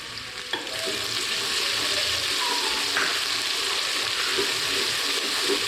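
Crushed ginger and garlic frying in hot oil in a home kitchen for a desi chicken dish, a steady close sizzle with occasional stirring scrapes and no talking.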